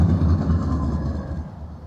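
A tram rolls past on a city street in Tallinn, Estonia, a loud, low rumble close by that steadily fades over two seconds, with no voices.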